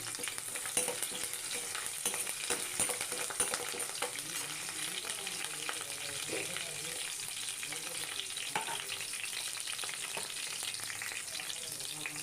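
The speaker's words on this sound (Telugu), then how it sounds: "కరేపాకు వేసుకొని ఇలా వేగనిద్దాం" Green chillies and curry leaves fry in oil for a chicken fry, a steady, fairly quiet sizzle with soft stirring scrapes throughout.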